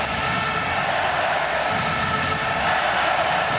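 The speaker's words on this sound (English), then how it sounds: "Crowd is now really getting behind Kiel." Handball crowd in the arena cheering for THW Kiel during a semi-final against Veszprem, a continuous loud roar of many voices with no break.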